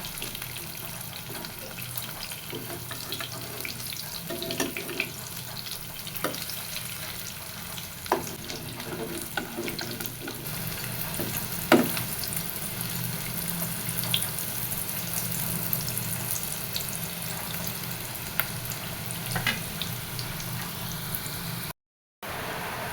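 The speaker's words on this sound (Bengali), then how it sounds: "আর বড়াগুলো ভাজা হয়ে গেছে এবার হচ্ছে বড়াগুলো সব নামায় নিব" Bora fritters deep-frying in a pan of hot oil give a steady low sizzle with occasional scrapes and stirring clatter from a utensil throughout, no talking.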